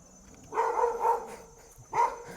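A dog barks four times nearby, three quick barks in a row, a pause, then one more, fairly loud over a quiet background with no talking.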